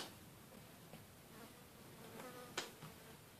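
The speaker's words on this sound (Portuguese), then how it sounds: "tem uma mosca aqui me incomodando" Fly buzzing faintly in an indoor room, a low steady drone with one brief louder pass near the end.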